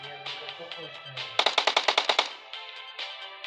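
A rapid burst of about ten gunshots goes off in a shooting video game, with a voice talking just before it and game sounds continuing afterward.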